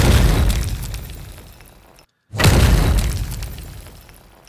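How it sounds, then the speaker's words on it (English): An explosion sound effect for a game bursts loudly with a broad crash and decays, cuts to a short silence, then a second identical blast rolls out and fades. "there's my explosion sound"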